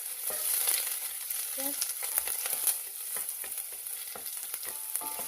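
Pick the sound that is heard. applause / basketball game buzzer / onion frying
onion frying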